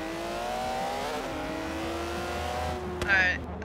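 An Aston Martin race car's engine drones and shifts pitch through gear changes during a race in Forza Horizon 3, steady and moderately loud, with a brief sharp knock near the end, while a person talks over it.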